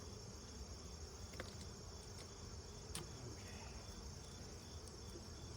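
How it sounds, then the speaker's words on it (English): Honey bees buzzing around an open Layens hive during an inspection, a faint, steady insect hum with a few brief sharper buzzes as individual bees pass close. "They're buzzing my veil because they're not happy."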